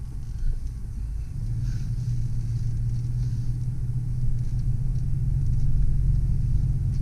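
A 1998 Ford E450 motorhome engine hums low and steady while reversing, a continuous rumble that swells gradually louder over several seconds, with no talking.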